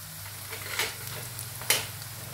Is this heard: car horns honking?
no